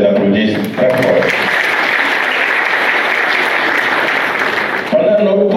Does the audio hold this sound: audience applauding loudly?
yes